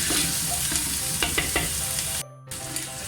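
Beef frying in a pot with garlic, ginger and turmeric paste, a close, steady sizzle with several sharp stirring scrapes and a brief drop in the sound near the end.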